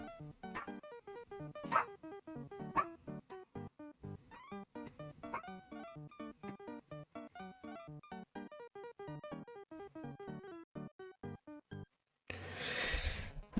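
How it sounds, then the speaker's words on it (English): A small dog barks over and over in quick, sharp, high yips that come in a rapid, uneven series, ending with a short burst of rough noise. "We love small dogs."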